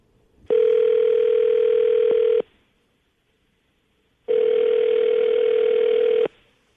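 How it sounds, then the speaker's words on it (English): Two long ringback tones from an outgoing telephone call, each about two seconds of steady buzzing with a pause between, clear and alone. "I'm going to call her right now, get her on the phone"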